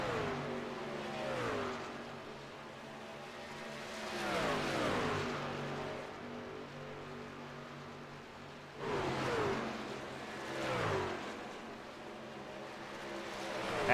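Racing trucks in a PC video game battle around the Las Vegas track, their engines whining and rising in pitch through repeated upshifts as several trucks run close together, a continuous layered revving with no talk.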